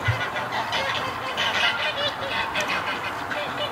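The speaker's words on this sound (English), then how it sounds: "Look at these ducks." Ducks on a winter creek give honking, fowl-like calls, moderately close and steady over a few seconds, with a voice talking over them.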